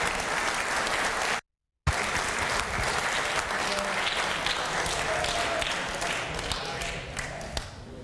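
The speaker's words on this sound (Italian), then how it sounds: "Applausi." Studio audience applause on an Italian Christmas sports television show, a dense, steady clapping that fills the whole stretch, broken once by a brief cut to silence before resuming just as full.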